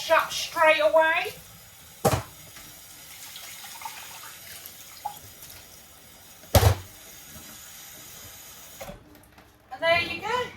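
Dishes washed up at a kitchen sink after making a smoothie breakfast: a thin, steady stream of running tap water with sharp clunks of utensils and crockery, plus talk and chirpy sounds at the start and end.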